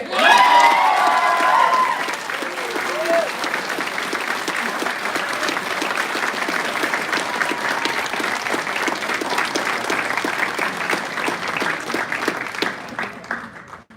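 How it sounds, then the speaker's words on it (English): A large audience at an Air Force Airman Leadership School graduation ceremony applauds steadily and loudly for an award recipient, with a few cheers and whoops rising early, the clapping sustained throughout and tapering slightly at the end. "Keep clapping, he's going a long way."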